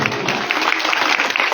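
Crowd clapping at an Indian public gathering during a religious katha talk, a short burst of loud, close, dense applause from many hands with slight uneven rhythm and no speech over it.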